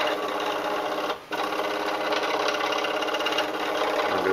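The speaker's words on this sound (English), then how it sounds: "you'll probably hear that the motor keeps going" A small motor on a demo board keeps running after board power is pulled, giving a steady close whirring drone with one short dip before it resumes.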